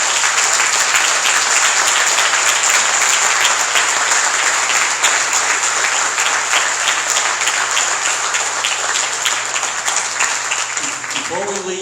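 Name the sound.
audience applause for three candidates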